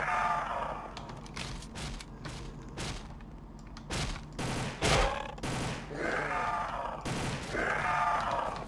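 A pistol in the Roblox video game fires in quick bursts, sharp cracks clustered in short groups with gaps between, mixed with grunting game sounds and effects at moderate loudness.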